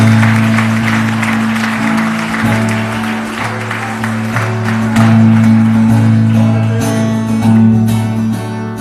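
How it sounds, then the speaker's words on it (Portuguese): A church congregation claps loudly during a service, a sustained burst of applause over steady sustained tones from instruments playing underneath. "Vai um aplauso ao Senhor bem forte"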